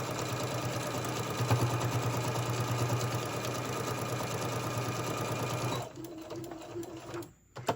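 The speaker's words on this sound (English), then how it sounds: "finish sewing right off to that end" A sewing machine runs a long continuous seam on a fabric tote bag, a close steady mechanical whir lasting several seconds before stopping abruptly, followed by quieter handling noise.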